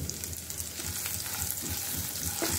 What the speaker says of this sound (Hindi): और ऑयल में अच्छी तरह से फ्राई कर लेती हूँ